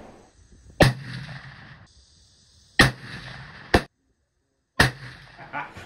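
Rifle shots fired with Nosler 300 grain bullets over a 150 grain White Hot magnum load: four loud, sharp cracks spaced a second or two apart, each trailing off in a short echo, with quiet gaps between.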